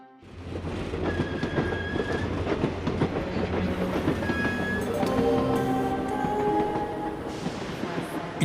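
A train pulling into a station: rumbling wheels and clickety-clack on the rails, with scattered metallic squeals and brake screeches rising near the end, loud and close.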